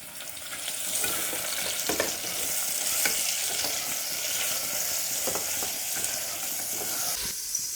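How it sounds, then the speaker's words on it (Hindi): Boneless beef, 1 kg of it, sizzling in a pot with golden fried onions for Degi Balti Gosht, a steady loud frying hiss broken by occasional stirring scrapes, with no talking. "अब हम इसमें डालेंगे 1 kg बीफ हमने बोनलेस लिया है"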